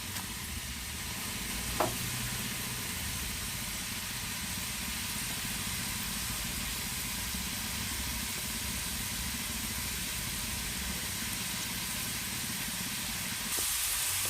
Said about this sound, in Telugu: పోపులు వేగిపోయినాయండి